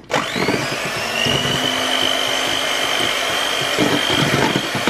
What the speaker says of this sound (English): we're just going to whisk this a little bit